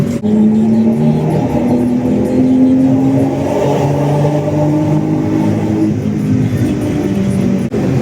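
Rally car cruising at about 100 km/h on a road: a loud, steady engine drone with slowly shifting pitch, heard from inside the cabin with constant road and wind rumble and no talk.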